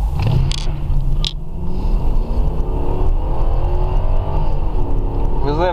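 A Lexus LS 430 running on LPG accelerates hard through first, second and third gears. The engine's rising pitch climbs, drops at each shift and climbs again, loud and close, while someone talks over it.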